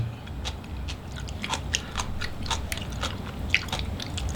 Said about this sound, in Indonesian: Jadi ini manisan pepayanya ini dimakannya kriuk-kriuk.